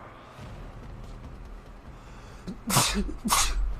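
A person sneezes twice in quick succession, loud and close, the sneezes rising over quiet room noise with low rumbling underneath.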